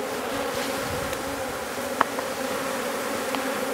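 Honey bees fill the air during a shook swarm off hive frames, a steady close buzzing drone throughout with a faint tap midway.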